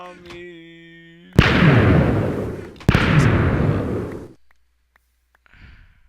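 Two long roaring explosion bursts in a factory-building video game warehouse, each a sudden loud blast that rumbles for over a second, followed by quiet and a faint rustle.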